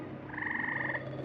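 A frog croaks in a single sustained, buzzy trill lasting under a second, with a steady low hum beneath it and no one speaking.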